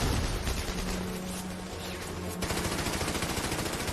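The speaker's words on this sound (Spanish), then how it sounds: "Aparecen algunas ametralladoras alemanas ocultas en la ladera." German machine guns hidden on a hillside fire in dense, continuous rattling bursts, loud and sustained, with a brief change in texture partway through the volley.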